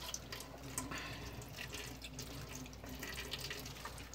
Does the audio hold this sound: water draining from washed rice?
yes